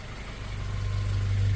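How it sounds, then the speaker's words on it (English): Yonaka catback exhaust on a stock first-generation Honda CR-V (RD1) idling, giving a steady deep low rumble that grows slightly louder over a short stretch, with no talking. "I'm going to try to prop it up, let you hear the exhaust"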